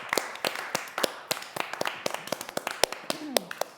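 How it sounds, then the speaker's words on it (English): Scattered hand claps from a small group applauding fashion show designers at a virtual event: sharp, uneven slaps in a quick irregular rhythm, fairly close and steady throughout, with no crowd roar behind them. "A round of applause to all of the designers so far."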